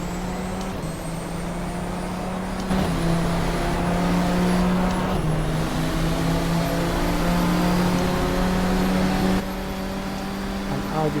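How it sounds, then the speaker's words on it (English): An Audi race car passing in GTR2 during a WEC Interlagos race, a loud steady engine drone with a sustained pitch that rises and shifts as it goes by, close and continuous. "An Audi passing"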